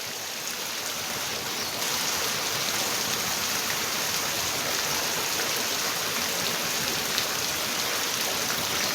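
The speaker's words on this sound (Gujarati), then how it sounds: "હારા મારો આવે છે અત્યારે, તમે જોઈ શકો છો મિત્રો." Torrential monsoon rain falling in a constant dense hiss, a little louder after the first two seconds, with a rushing, stream-like wash and no voices.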